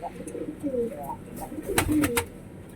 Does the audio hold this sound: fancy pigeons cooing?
yes